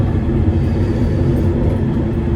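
Moscow metro train car shaking and rumbling while riding, a steady loud low roar with rattling throughout, close and continuous with no talk.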